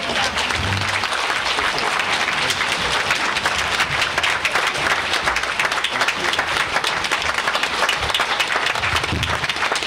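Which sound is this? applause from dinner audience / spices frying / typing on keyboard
applause from dinner audience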